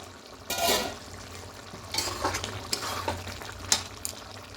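A chicken biryani mixture being stirred in a pan, soft scraping and mixing strokes over a low sizzle, close and fairly quiet.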